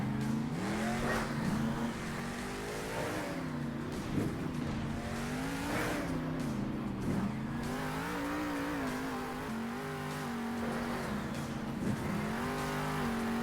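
The Grave Digger monster truck drives fast, its engine droning loud and steady with rising and falling revs throughout, alone without talk.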